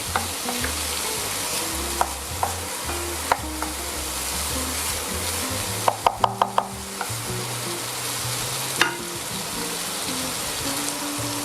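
Braised veal tendrons sizzling steadily in a pan, with scraping clicks and a quick burst of sharp clatters as the pieces are pushed to one side, no voices over the frying.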